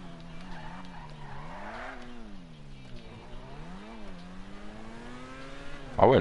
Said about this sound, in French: Ah ouais, le bruit moteur, c'est abusé.